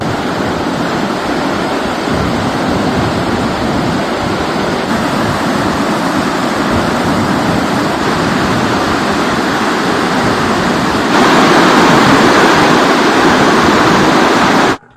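The flooded Noyyal river surges in a loud, unbroken rushing roar of water, swelling slightly louder near the end before cutting off, with no one speaking.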